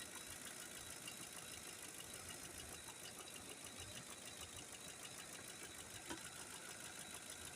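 A Lincoln 5.4 engine idles with one cylinder disabled, firing but getting no fuel, giving a steady, dense, somewhat rough running drone that stays constant throughout.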